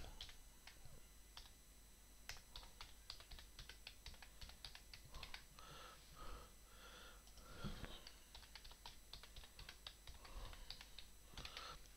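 Someone types a password on a computer keyboard, a quiet, uneven run of close, crisp key clicks with brief pauses between bursts.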